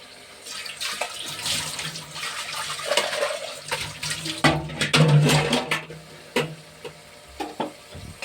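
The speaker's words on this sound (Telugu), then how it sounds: "సింక్లో గిన్నె పడేసాను అంతే" A bowl clatters into a kitchen sink under running tap water, a steady splashing stream broken by several sharp knocks and a louder clank midway.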